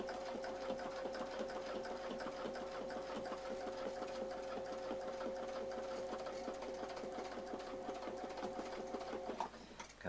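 A sewing machine stitches a quilting pattern with a steady, fast mechanical whir and rhythmic needle clatter, running continuously and fairly close, then stopping abruptly near the end.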